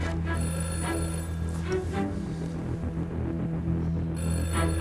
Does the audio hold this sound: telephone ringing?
yes